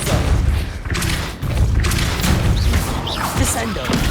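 In the Hogwarts Legacy video game, a Depulso spell lands with heavy thuds and booming impacts amid crashing debris, while a voice speaks over the loud, dense action.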